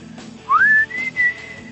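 A short whistled tune from the Metal Gear Solid 4 video game: a sliding upward note followed by a couple of sustained high whistles, clear over faint background sound.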